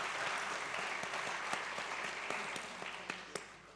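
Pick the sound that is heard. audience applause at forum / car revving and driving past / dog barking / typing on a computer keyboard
audience applause at forum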